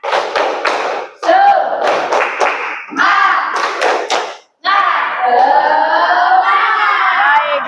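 A classroom of students performs a rhythmic spirit-clap ice breaker, loud group clapping in bursts and patterned beats with brief pauses, mixed with voices chanting along.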